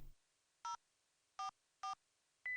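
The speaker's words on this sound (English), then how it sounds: "this time I typed it into the phone" Phone keypad tones from the Song of Saya video game: four short, clean electronic beeps spaced unevenly, each a crisp dual-tone press, alone against near silence.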